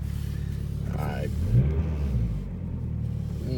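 A 2000 Toyota Solara with 172,435 miles and no oil pressure idles with a steady low engine rumble and a brief rise in revs, heard close throughout.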